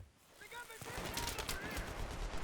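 Gunfire in a Battlefield game breaks out as rapid automatic bursts and shots, loud and dense, rising out of quieter game ambience with a voice heard briefly near the start.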